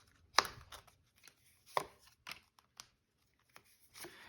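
Tarot cards being mixed by hand: a few sharp, close slaps and soft papery riffles scattered irregularly across a few quiet seconds.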